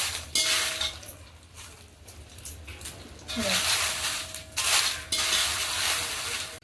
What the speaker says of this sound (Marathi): आपण तेल टाकतो आणि याच्यामध्ये ह्या मिरच्या स्लो गॅस ठेवलं मी स्लो आचेवरच त्या मिरच्या सगळ्या आपण भाजून घेऊया